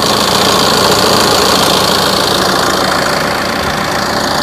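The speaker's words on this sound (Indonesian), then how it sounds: "Mesinnya masih nyes." A Tata Aria with a 2.2 turbo diesel engine idles up close, a loud, steady, slightly knocking rumble that holds constant throughout with no speech.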